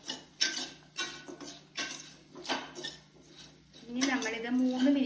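A utensil scrapes and clatters in a pan as chopped guava is sautéed for pickle, in close, uneven knocks, and a voice speaks briefly near the end.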